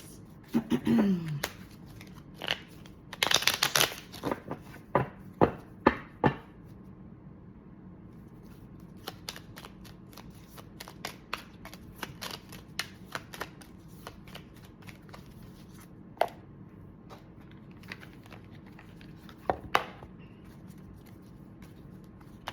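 Tarot cards being shuffled for a reading, a flurry of riffling bursts early on, then scattered soft card taps and flicks in a quiet room, with no talk.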